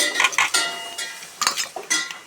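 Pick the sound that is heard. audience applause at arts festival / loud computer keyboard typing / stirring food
stirring food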